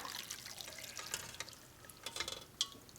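Hibiscus tea pours and trickles into a strainer, soft splashing and dripping, fairly quiet and close, with a brief sharper splash near the end.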